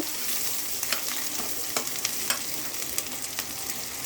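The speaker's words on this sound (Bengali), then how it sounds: "কাঁচামরিচ আরও কিছু দিয়ে দিচ্ছি এখন এটাকে আমি লাল লাল করে ভেজে নিব" Rohu fish pieces frying in a pan with green chilies, a steady close sizzle punctuated by repeated sharp clicks of a spatula stirring against the pan.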